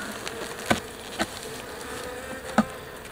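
Honeybees buzz in a hive that has been opened after years sealed with propolis, a soft steady drone close by, broken by a few sharp clicks or taps of hive tools on the frames.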